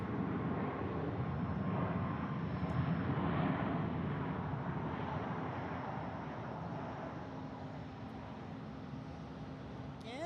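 A jet roars steadily for takeoff at Phoenix Sky Harbor in the early morning, a broad, continuous engine rumble and rush heard from a distance that holds for the whole stretch, with no talk over it.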